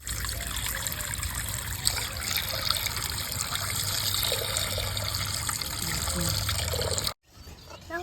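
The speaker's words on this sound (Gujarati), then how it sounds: "આપણે કઢાઈમાં પહેલાં બે દૂધની ઠેલી વેડી નાખીએ" Milk is poured from two packets into a wok, giving a continuous trickling, splashing flow for about seven seconds before it cuts off, then a brief quieter rustle follows.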